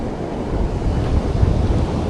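Big ocean waves breaking on a Jacksonville beach on a big wave day, a continuous roaring surf wash mixed with gusty wind buffeting, loud and steady.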